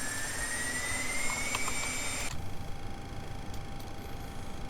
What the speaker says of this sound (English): I love these engine sounds, they're brilliant.